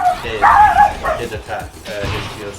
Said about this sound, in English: that's my dog, Charlie boy right there